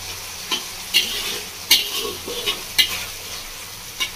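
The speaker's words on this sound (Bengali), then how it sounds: "দেখুন বন্ধুরা মশলাটা খুব ভালোভাবে ফুটে গেছে, একদম সেদ্ধ হয়ে গেছে।" Spice paste cooking in a pan for a bottle gourd and prawn dish, a loud continuous sizzle and bubble with regular spoon scrapes and clinks close by.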